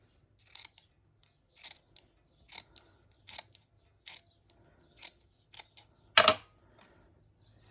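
Scissors cut a sheet of paper in two for a junk journal, giving a quiet series of crisp snips at a slow, even pace, close up, with one louder, longer cut near the end.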